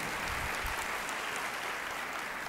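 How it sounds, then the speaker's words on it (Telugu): A congregation at a Christian sermon clapping together, a dense, even wash of applause that holds steady throughout the short stretch, with no clear voices over it. "గట్టిగా చప్పట్లు కొట్టి ప్రభునామమున మహిమపరచు."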